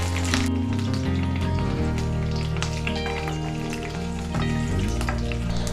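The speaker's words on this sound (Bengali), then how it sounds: "আমার গরম মশলা একটু ভাজা হয়ে গেলে আমি পেঁয়াজ কুচি দিলাম" Chopped onions hit hot oil with garam masala for samosa filling, a loud steady sizzle and crackle running throughout with stirring clatter, close and continuous.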